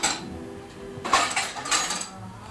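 Dishes being washed by hand at home: scattered clinks and clatters of plates and cutlery against each other, with a louder cluster of knocks near the middle over a running background.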